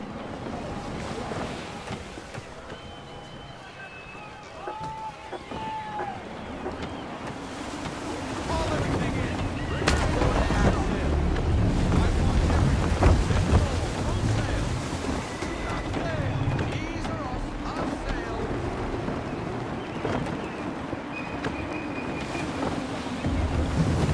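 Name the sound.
gusty wind while sailing a ship in Assassin's Creed 3 video game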